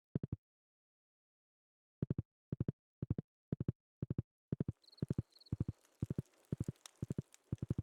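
Horse hooves in Stardew Valley clip-clop in steady paired steps, clear and close, with a pause before the walking resumes and a soft rustling ambience joining partway through.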